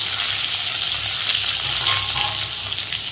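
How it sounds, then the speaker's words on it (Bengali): Chopped onion fries in hot oil with whole spices, giving a loud, dense, continuous sizzle and crackle that stays steady throughout, close up and with no voices. "পেঁয়াজটাকে একটু হালকা করে ভেজে নেব।"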